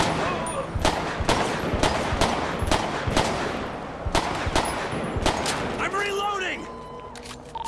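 GTA LSPDFR pistol fire at a car's tires beside a gas station, a loud rapid string of sharp shots with short pauses, then quieter engine and movement sounds, with someone talking over it.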